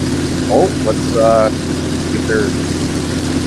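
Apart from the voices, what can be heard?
Hercules aircraft engine running on a trailer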